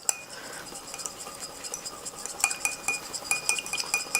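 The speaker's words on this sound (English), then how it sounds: "I'm just going to whisk it up." A small whisk beats hollandaise sauce in a bowl for Eggs Benedict, making quick metallic clinks and scraping taps that grow livelier toward the end, close and fairly quiet.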